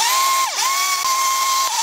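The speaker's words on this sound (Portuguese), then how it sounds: "liga o liquidificador" A kitchen blender runs with a steady high whine and hiss, the motor pitch dipping briefly once before settling back, close and loud with no talking.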